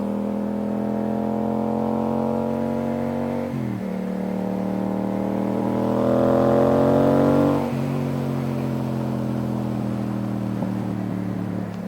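A motorcycle engine revs loudly and steadily, its pitch climbing and falling twice with sharp breaks that may be backfires, carrying on without pause and with no talk over it.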